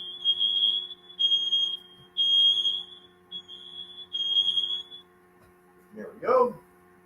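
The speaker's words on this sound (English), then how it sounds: "cooking Rudy would not be complete without the fire alarm" A kitchen smoke alarm shrieks while mushroom soup boils on the stove, several loud beeping bursts in an uneven rhythm over a faint hum, followed by a short spoken remark once it stops.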